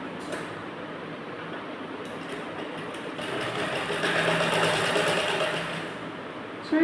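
A sewing machine stitches a blouse with a rapid, steady mechanical whirr that swells slightly louder midway, then settles before a sharp clunk at the end.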